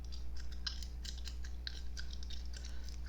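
Gum chewing with sharp, crisp snaps: wet, quick, close-up clicks and pops in an irregular rhythm over a low steady hum, with no talking.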